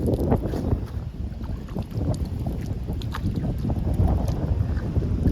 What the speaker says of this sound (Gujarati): અહીંયા મસ્ત મજાનો પવન આવે